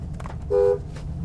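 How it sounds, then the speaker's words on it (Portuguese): A car horn honks once in a loud, steady blast of about a quarter second, sounding in a garage setting among muscle cars: Mustang, Dodge Challenger SRT8 and Camaro SS. "Exagerei aqui na buzina"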